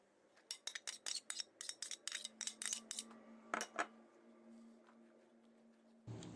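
Cheese börek filling of village cheese and chopped parsley stirred in a bowl, a rapid run of close clinking utensil strikes against the bowl, then a few louder knocks before it trails off.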